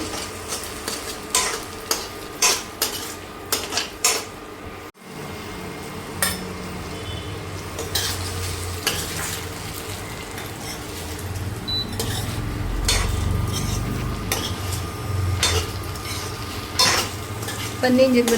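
Fried paneer for paneer Manchurian is tipped into a pan and stirred, with sharp rhythmic spoon-on-pan clanks early on, then a continuous sizzle and scraping that grows fuller toward the end; close, without speech.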